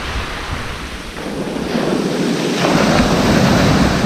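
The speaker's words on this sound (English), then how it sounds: "Look at these waves coming in, man." Sea waves rolling in and breaking on the shingle shore at Pevensey Bay, a steady broadband surf roar that swells louder partway through, with wind buffeting the microphone and no voices.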